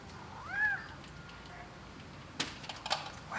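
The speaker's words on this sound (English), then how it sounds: "wow, this cat wants to play." A pet cat named Tuco gives one clear, rising-and-falling meow near the start, followed by soft clicks and rustling in a quiet room.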